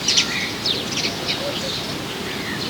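Outdoor birdsong: several bright chirps and short whistled calls come in scattered bursts at moderate distance over a soft, steady background hiss, with no talking.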